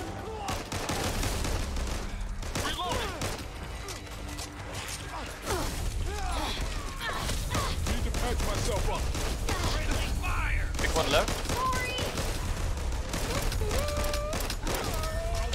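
Repeated gunfire in Back 4 Blood gameplay rattles in bursts amid clanking, creaking mechanical noises and shouted voices, a dense and steady barrage close up throughout.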